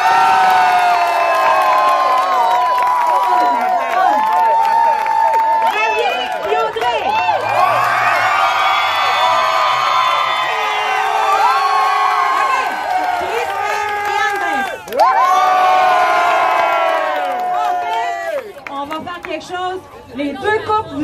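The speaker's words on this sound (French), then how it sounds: "on réserve les applaudissements pour Christelle et Andrés." Crowd at an outdoor salsa dance competition cheering, shouting and applauding a dancing couple, loud continuous roar with whoops and whistles over music, with an announcer's voice mixed in.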